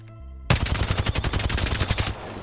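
A rapid burst of automatic weapon fire from the Apex Legends shooter, roughly fifteen loud, closely spaced shots in an even rhythm, heard up close with no talk.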